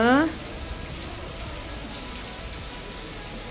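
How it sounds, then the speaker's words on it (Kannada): Dense, steady patter of heavy rain hitting surfaces, constant and enveloping, after a brief voice at the very start. "ಫುಲ್ ಜೋರು ಮಳೆ ಬರಾತದ"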